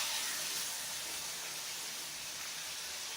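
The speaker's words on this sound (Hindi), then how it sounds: "जिंजर गार्लिक पेस्ट, इसे मैं फ्राई करूँगी।" Ginger garlic paste fries in a pan for chicken jalfrezi, giving a steady, even sizzle and hiss that runs unbroken and fairly soft throughout.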